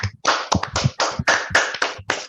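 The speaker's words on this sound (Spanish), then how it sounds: "aplaudamos, como siempre, a los autores y que el aplauso se escuche" Audience applause for the authors at an online reading talk, heard over several open microphones: a dense run of claps, loud and close, bursting in uneven clusters with no voices.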